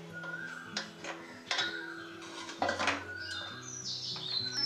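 A metal lid or plate goes over a cake pan set on a heated tawa while a coffee cake bakes, giving a few sharp clinks and clatters of metal against metal over a steady background hum.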